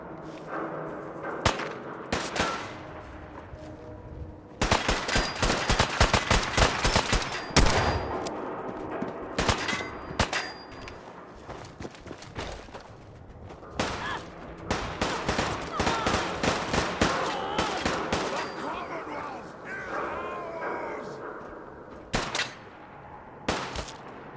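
Revolver rifle gunfire in Fallout 4, loud sharp shots fired in quick irregular bursts with short pauses between volleys, ringing echoes and impacts around them, no talking.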